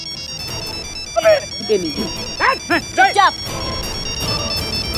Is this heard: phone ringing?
yes